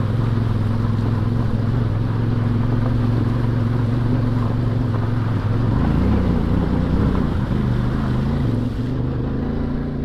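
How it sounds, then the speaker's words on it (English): A CFMoto 450MT adventure motorcycle rides through deep water in the Australian outback, its engine droning steadily under constant splashing and wash, loud and close throughout. "it's getting a bit deep there, Grey mate."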